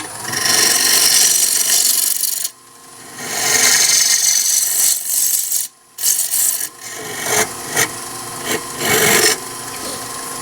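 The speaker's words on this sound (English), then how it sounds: "Now let's face off the front here with my, it's just touching. I'm going to again use my 3/8 bowl gouge." A 3/8 bowl gouge faces off a spinning wooden bowl blank on a lathe, giving a loud, continuous rasping scrape that breaks off briefly a few times and then resumes in shorter cuts.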